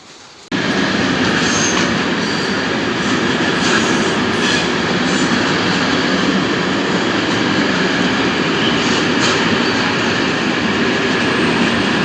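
A train rumbles loudly and steadily close by as it arrives at a station in Norway, with a continuous metallic rolling roar and faint squeals from the wheels.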